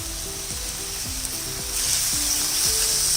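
Moong dal sautés in hot oil in a pan, a dense continuous sizzle that swells louder partway through, with faint stirring underneath.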